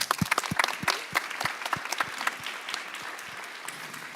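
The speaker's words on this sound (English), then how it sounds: "A round of applause." Conference audience applause, a crowd clapping loosely with distinct individual claps that are strongest at the start and gradually thin and soften toward the end.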